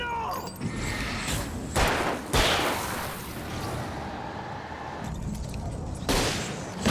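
Gunfire and a flare gun shot in the Alan Wake video game ring out as several sharp, loud bursts over a busy, noisy game background.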